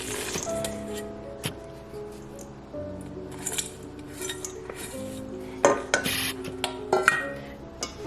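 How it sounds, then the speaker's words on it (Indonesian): Frozen mozzarella and parmesan cheese are stirred together in a bowl with a utensil, giving close, irregular scraping and clinking with sharper knocks toward the end. "Ini keju mozzarellanya masih beku, nggak apa-apa, kita aduk aja jadi satu."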